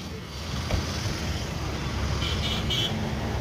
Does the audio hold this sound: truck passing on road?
yes